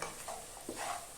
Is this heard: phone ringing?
no